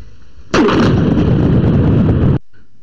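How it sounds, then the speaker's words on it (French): Large blast from the destruction of three obsolete missiles and expired munitions at a demolition ceremony in Mali: one loud, sudden deep boom that rolls on for about two seconds before cutting off abruptly, with no voices. "a abrité hier une première cérémonie de destruction de 3 missiles"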